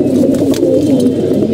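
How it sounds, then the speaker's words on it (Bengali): Kali Bagha pigeons, a rare full-blooded breed, coo loudly and continuously up close, deep rolling calls overlapping without pause. "আমাদের এই বাঘা কবুতর মাসাল্লাহ অনেক সুন্দর হয়ে যাচ্ছে"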